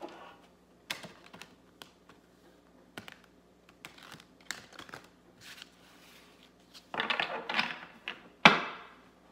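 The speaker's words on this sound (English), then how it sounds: "These are kind of hard to shuffle." Stiff cards slap and riffle together in short bursts, with scattered taps and a louder flurry of shuffling toward the end.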